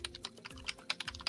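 Rapid, quiet key presses on a computer keyboard while code is typed, an uneven rhythm of soft clicks close by with no talking.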